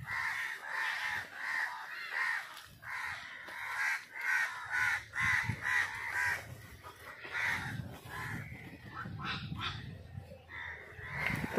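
Crows caw repeatedly near a cluster of heron and crow nests in the Sundarbans mangrove forest, giving a run of harsh, fairly close calls with brief gaps and some other rustling noises in between.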